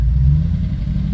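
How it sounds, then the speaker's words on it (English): A 1989 Jeep Grand Wagoneer engine fitted with a Holley Terminator fuel-injection system runs loud and close, a steady, deep rumbling drone with no pauses for the whole moment. "I'll stop revving the motor"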